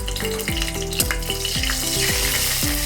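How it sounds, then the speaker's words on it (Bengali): Dried red chilies hit hot mustard oil over a medium flame, giving a steady, close sizzle with a few stirring scrapes, while tonal background music plays throughout. "আমি দিয়ে দিলাম শুকনো মরিচ"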